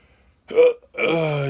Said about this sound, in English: Got the weirdest hiccups ever.